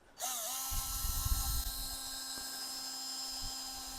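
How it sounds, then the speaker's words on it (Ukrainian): A drill-tap bit from AliExpress drills into metal with a loud, steady high-pitched whine after a sharp start, accompanied by some low scraping and grinding in the first seconds. "Сверлить."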